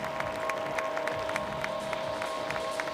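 A crowd at an indoor climbing World Cup lead final cheers and claps steadily, with scattered sharp claps over a continuous roar, moderately distant and sustained throughout.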